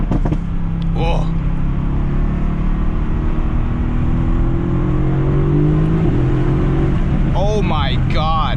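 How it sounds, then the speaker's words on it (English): A 2019 Mercedes-AMG GT S engine revs hard and climbs in pitch under heavy acceleration with traction control cutting in, loud and close, with a brief voice near the end. "Traction control is just going off as soon as you floor it."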